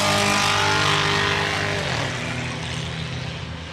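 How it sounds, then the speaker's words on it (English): Several race cars roar side by side around a quarter-mile short track, engines loud and close with overlapping revving tones that gradually ease as the pack moves away. "Some good side-by-side racing."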